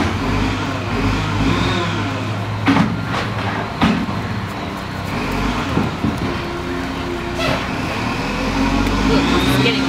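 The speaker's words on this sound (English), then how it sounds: "That's a loud truck." A garbage truck engine rumbles loudly nearby, revving and droning throughout, with people talking over it.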